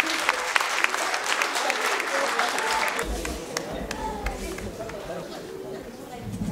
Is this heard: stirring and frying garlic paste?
no